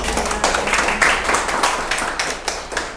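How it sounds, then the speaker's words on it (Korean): An audience at an academy's science course information session claps, a scattered burst of individual hand claps of moderate loudness that continues steadily throughout. "우연찮게 박수를 2번 받게 돼서"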